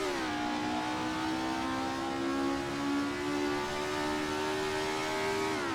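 A Ford Escort RS1600 engine in Assetto Corsa holds a steady high-revving drone as it races the Nürburgring GP circuit, loud and continuous, with the pitch sagging briefly and climbing again near the end.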